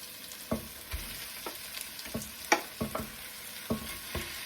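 Pork leg in a pan over low heat, a faint background sizzle broken by a series of sharp scrapes and knocks of utensils against the pan, irregularly spaced and fairly quiet.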